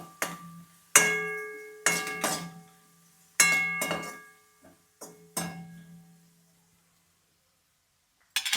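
A spoon mixes turmeric into a tomato chutney mixture in a metal pan, striking the pan in about seven separate ringing clinks that each fade out, close and clear with no talking.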